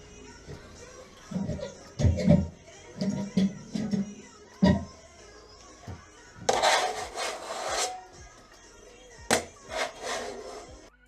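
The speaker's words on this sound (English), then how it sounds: "so we can skim the ceiling" A plastering trowel scrapes and smears plaster across a bathroom ceiling in an old French house, with irregular close strokes and taps followed by louder broad swishes.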